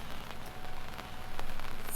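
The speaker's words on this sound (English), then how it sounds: "It's been a couple of hours and it's still raining." Rain falls steadily on a boat with an uncovered bimini frame during gale-force winds, giving a continuous close patter with scattered sharper drops and no voices.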